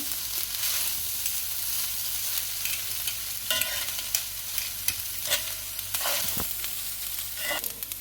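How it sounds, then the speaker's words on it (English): Carrot and cashew fried rice fries and sizzles steadily in a pan, with a continuous hiss and occasional scraping stirs from a utensil, close and moderately loud, with no talking. "Let this fry for 3 to 4 minutes and it's finished."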